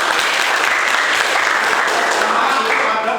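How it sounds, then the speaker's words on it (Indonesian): A classroom full of people applauds for Mas Eka, brisk continuous clapping at full strength that stays dense and steady throughout, close and lively. "tepuk tangan untuk Mas Eka"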